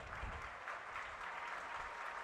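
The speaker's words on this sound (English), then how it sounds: "And a good round of applause." Stadium crowd at a college football game, Middle Tennessee at Western Kentucky, applauding an injured player; a broad, distant wash of clapping and crowd noise, fairly faint and continuous.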